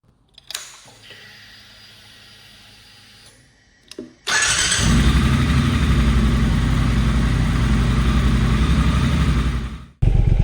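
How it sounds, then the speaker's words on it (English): A motorcycle fitted with Arrow Nichrom Pro-Racing silencers, baffles removed, cranks and catches with a sharp burst, then settles into a loud, deep, steady burbling idle close by for several seconds before cutting off, with no talk. "Without the baffles, this definitely sounds different. And now burbles and now farts. It sounds like a proper exhaust now."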